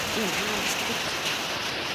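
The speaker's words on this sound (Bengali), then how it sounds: "আমি জানালার পাশে বসে আছি মানে বৃষ্টি দেখি" Rain falls steadily outside a window during a power cut, a dense even hiss of downpour throughout while someone speaks faintly nearby.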